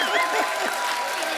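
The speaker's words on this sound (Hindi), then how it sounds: "हर सीन में ऐसा ताली बजाना पड़ता है यार।" Studio audience applause on a comedy talk show, a dense, steady clapping from many hands that fills the moment, with talking voices faintly mixed in.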